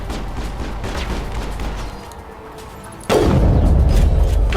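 Sniper rifle gunfire in the Mass Effect video game: a dense rumble of shots and booms, dropping briefly and then slamming back in with a loud, heavy blast.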